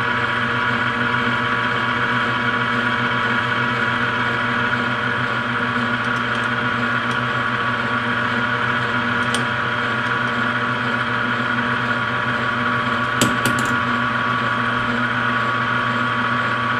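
Machine tool in a home shop spinning steadily at about 200 RPM while machining brass fridge magnets, a constant droning hum with no breaks and a brief clatter near the end.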